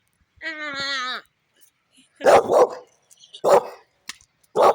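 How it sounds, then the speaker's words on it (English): A dog barks at nothing indoors: a drawn-out whining yelp, then several short, sharp barks in quick pairs, close and loud, with no talk. "Barking at nothing."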